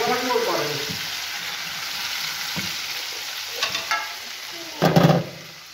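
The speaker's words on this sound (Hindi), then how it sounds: "अब इसको लगाना है तड़का। तड़का लगाते हैं, मुझे तड़का मेरी आवाज बहुत अच्छी लगती है।" Spices tempering for kadhi crackle and sizzle in hot oil, a bright hiss with sharp spattering bursts, loudest near the end before fading.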